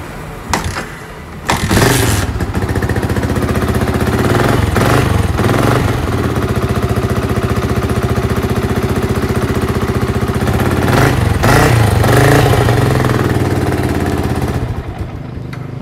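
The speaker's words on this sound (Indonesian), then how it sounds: "di sini untuk motornya tidak bisa langsam di sini guys" A Yamaha V-Xeon motorcycle engine running rough and struggling to idle, close and loud, with a sputtering start and then a continuous uneven chug broken by surges in revs.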